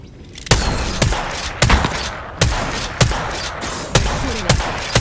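Enemy gunfire in Apex Legends: loud, sharp shots crack out roughly every three-quarters of a second over a constant noisy backdrop of game sound, with no talking.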